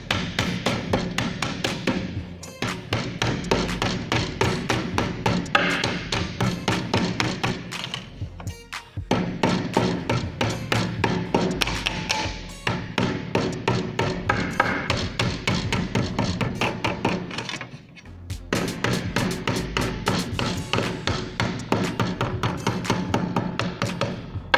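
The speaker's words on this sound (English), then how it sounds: "Just catching the edge with my hammer." Rapid, steady hammer blows on the edge of a sheet metal feeder near its bead, loud and close, with two brief pauses between bursts.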